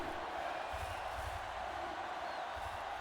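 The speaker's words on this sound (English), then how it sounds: "this Trash Pandas crowd gets loud for their defense" A home stadium crowd at a Trash Pandas football game roars steadily for its defense before a third down, a loud sustained wash of cheering and shouts.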